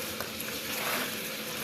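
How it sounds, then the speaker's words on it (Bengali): Chicken jhal fry cooks in a pan, giving a faint, steady hiss and sizzle that stays at a constant level, with no voices. "ভাজছি এখন, দেখুন বাদামি কালার হবে।"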